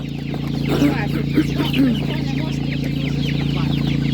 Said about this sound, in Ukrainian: Бачите, ці фабричні курчата.